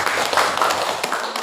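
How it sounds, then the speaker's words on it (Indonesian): Students in a classroom clap for the group presentations in a brief, close burst of scattered hand claps lasting just over a second. "Beri tepuk tangan untuk semuanya."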